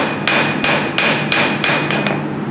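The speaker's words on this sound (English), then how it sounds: "You can kind of tip your hammer." Hammer striking a forged steel handle on an anvil, six sharp ringing metallic blows at an even rhythm, close and loud with no talking.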